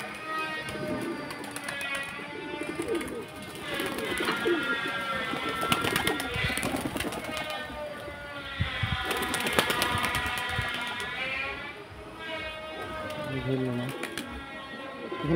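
Pigeons coo in low, repeated murmurs, mixed with other bird calls, while someone talks over them throughout.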